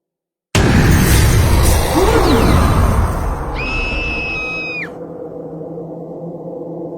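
A loud crashing burst hits suddenly, then a girl's high-pitched, sustained scream rises and cuts off, leaving a quiet low hum.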